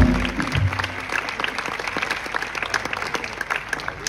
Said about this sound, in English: please, a nice round of applause for the great Peter Bernstein